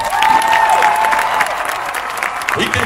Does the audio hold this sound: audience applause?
yes